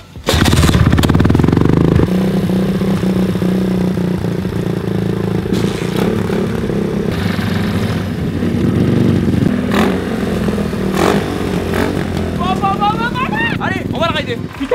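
A Honda Dax-style motorcycle engine on a twin-engine build fires up and runs loud and close with a rough, throbbing idle, blips of revving and some clattering, with voices talking over it.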